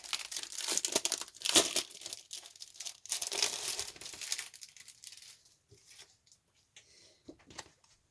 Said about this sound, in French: Je vais vous le déballer.